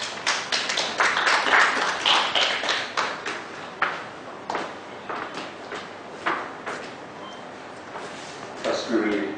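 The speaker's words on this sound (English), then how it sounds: "welcome her with a big applause" An audience at a presentation event gives scattered, uneven applause, sparse hand claps rising and fading in bursts, fairly near and moderately loud, with talk heard faintly toward the end.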